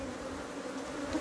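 Africanized honey bees in Trinidad hum at a hive stacked with three supers, a close, dense, unbroken buzz holding steady throughout.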